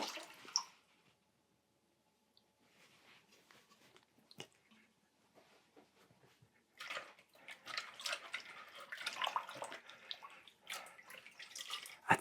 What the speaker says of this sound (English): I'm just going to pour in, swirl it around, throw it out as quickly as possible.